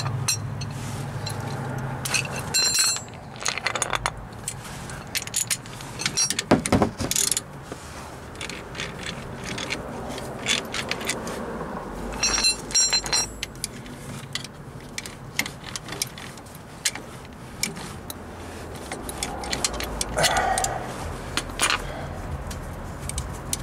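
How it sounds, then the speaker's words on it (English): Caliper bolts being worked loose on the front brakes of a 2006 Toyota Corolla, with repeated close metallic ratchet clicks, clinks of tools and parts, and steady workshop handling noise through the whole stretch, no talking. "Let's get these upper bolts, this caliper bolts out of here."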